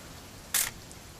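An old camera in What Remains of Edith Finch snaps a single picture, one short, bright shutter click standing out against quiet room tone.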